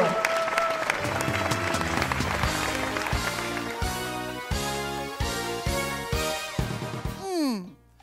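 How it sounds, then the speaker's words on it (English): Audience at a youth variety show and telethon applauding contestants, clapping mixed with loud music and rhythmic beats, ending in a sliding sound effect. "Let's have one more big round of applause for all our contestants tonight on Let's Make a Deal"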